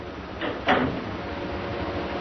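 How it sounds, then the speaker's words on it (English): An old-time radio drama sound effect of a door being shut, with a short scrape followed by a louder closing thud near the start, then quiet room tone. "Close the door."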